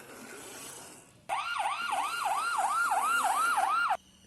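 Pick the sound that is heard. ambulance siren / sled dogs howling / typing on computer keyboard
ambulance siren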